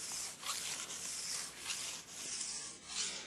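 A file rasps along the side edge of a ski in repeated rhythmic strokes, several soft scraping passes close by, faint and without talk.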